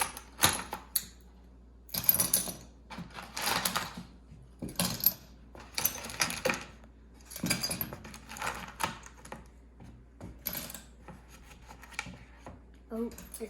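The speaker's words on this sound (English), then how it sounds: "This is only a rock grinder, but we're using it for shells because who cares?" A rock tumbler grinding seashells gives off irregular clattering, rattling bursts with short pauses between them, close and fairly loud, and a voice may come through faintly.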